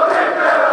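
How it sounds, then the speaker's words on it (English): A football stadium crowd at an Arsenal versus Tottenham match roars in a sustained, loud, even wall of noise with no breaks and no single voice standing out. "Mikel, you can hear what the crowd think"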